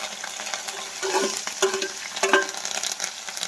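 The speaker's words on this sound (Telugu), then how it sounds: "కరివేపాకు పచ్చిమిర్చి వేద్దాం చూడండి ఎండుమిరపకాయలు కూడా యాడ్ చేద్దాం" Curry leaves with green and dried red chillies sizzle in hot oil for a rice rava pulihora tempering, a close, steady crackle broken by sharper hissing bursts as ingredients hit the pan, with stirring clatter and no voices.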